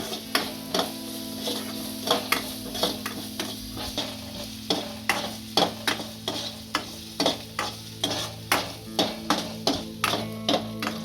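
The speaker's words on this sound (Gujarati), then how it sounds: "કાંદાને ફેરવી લઈશું" Onions sizzle in a hot pan while a spoon scrapes and stirs in steady, repeated strokes, close and clear with no talking.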